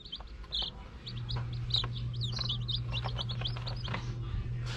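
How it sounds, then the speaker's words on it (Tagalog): Newly hatched chicks chirp in a steady stream of high, rapid peeps, with adult chicken clucks mixed in and a low continuous hum underneath; no one speaks. "Nandito na yung mga sisiw na napisa."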